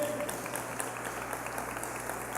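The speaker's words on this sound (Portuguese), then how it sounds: "se é para aplaudir, vamos aplaudir com vontade, né?" A church congregation gives steady, dense applause throughout, a continuous wash of many hands clapping with no talk on top.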